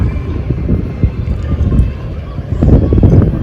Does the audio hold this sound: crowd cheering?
no